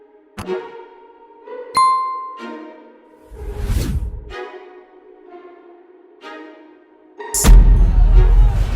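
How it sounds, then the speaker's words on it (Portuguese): A sequence of bright ringing notification bell and chime sound effects, punctuated by whooshing swells, loud and close with no talking. "ative o sino de notificações"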